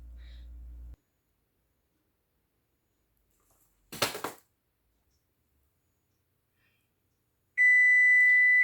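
An oven timer beeps in a kitchen while banana mango loaf bread bakes, a steady electronic tone held for about a second near the end after a brief rustle.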